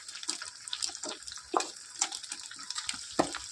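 Mushroom pakora batter sizzles in hot oil, a steady close hiss broken by sharp crackling pops as each spoonful goes in.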